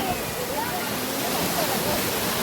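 Kumbakarai waterfalls roar loudly and continuously, a dense, unbroken wash of rushing water that fills the whole clip.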